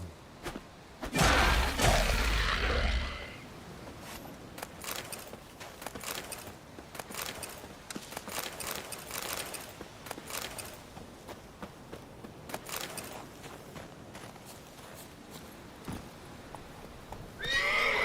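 Roach the horse from The Witcher 3 gives a loud whinny, then hooves clip-clop steadily in a game setting, with another snort at the end.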